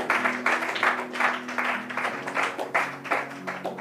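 A church congregation claps and cheers in praise, steady rhythmic applause with bursts of louder clapping over a sustained organ or keyboard drone, lasting several seconds at close range.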